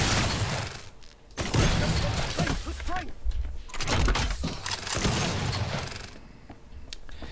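Seeker 6 missile launcher firing in Killing Floor 2, loud booming blasts and explosions repeating across the scene amid dense game-battle noise, with a voice talking over it.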